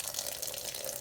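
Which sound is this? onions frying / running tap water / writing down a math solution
running tap water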